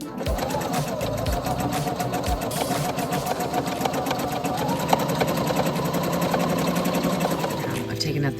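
A sewing machine stitches fabric for book sleeves, running in a steady, fast, continuous mechanical chatter close by, with a voice talking over it.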